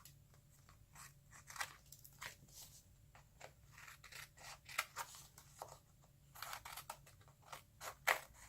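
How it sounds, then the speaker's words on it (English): Scissors trim paper scraps for a vintage-style art journal page, a series of crisp, quiet snips at an irregular pace, close and soft against a faint background hum. "I just flip it over and trim it"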